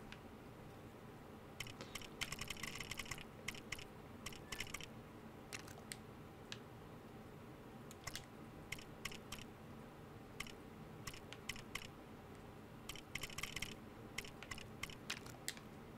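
Computer keyboard keys clicked in uneven bursts during a Lego Worlds livestream, faint light taps scattered over a steady low background hum, with no voices.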